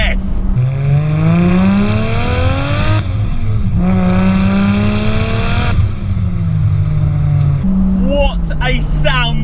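A turbocharged Lexus IS200 with a six-speed gearbox and screamer pipe pulls hard up through the gears, its engine note rising in long loud sweeps with brief breaks at each shift and a blow-off hiss between gears.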